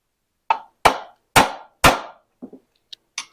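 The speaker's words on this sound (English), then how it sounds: "We want to use the round part of the ball peen hammer" A round-faced ball peen hammer strikes the lip of a bolt hole on a Ford 5.0 EFI engine part braced against a bench edge, four sharp ringing metal blows in a steady rhythm followed by a few lighter taps, close and loud.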